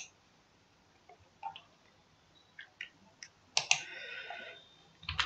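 Scattered keystrokes on a computer keyboard, quiet and close, come as a few sparse clicks before a quick burst of typing near the end, with no voice over them.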